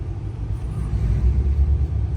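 A Ferrari F8 rolls past outdoors, a steady low engine rumble that swells slightly toward the end, fairly distant and without voices.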